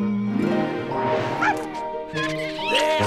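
A cartoon dog yaps and barks in short excited bursts over a busy animated soundtrack, with high yelping calls scattered across a few seconds.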